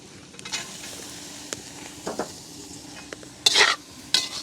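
Vegetables are stir-fried in a pan in a village kitchen, with a steady low sizzle under repeated spoon scrapes and clinks against the pan, one sharper scraping burst near the end.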